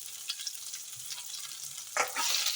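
Chopped onion and curry leaves frying in a tempering of hot oil in a pan, a soft crackling sizzle with scattered pops, then a louder burst of stirring and hissing near the end.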